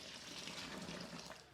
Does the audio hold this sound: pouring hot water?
yes